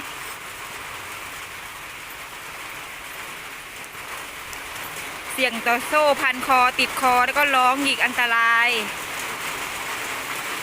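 Steady rain patters on a surface throughout, and partway through a voice speaks over the hiss of the downpour.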